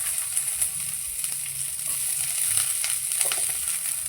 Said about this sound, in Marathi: अर्धा चमचा आपल्याला तूप किंवा बटर घालून घ्यायचं आहे त्यामध्ये थोडासा कांदा फ्राय करून घ्यायचा आहे